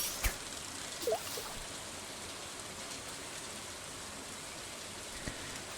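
Rain in the farming video game Stardew Valley, a soft, steady patter of rainfall with a few faint drips and ticks, quiet and unbroken throughout.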